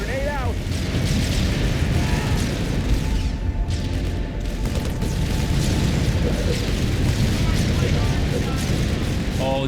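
A grenade blast in the 2009 real-time strategy game Halo Wars, a loud booming explosion rumbling inside a dense din of battle noise, gunfire and unit voices.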